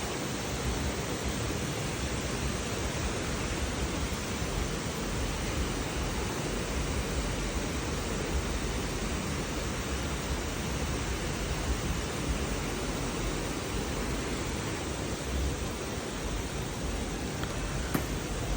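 Waterfall pouring down at a cave in Laos, a steady, loud, dense rush of water with no break and no voices, filling the whole scene from start to finish.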